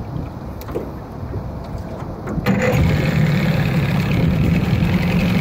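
A small outboard boat motor runs at a steady idle, a low continuous rumble that grows a bit louder and fuller partway through, with no voices.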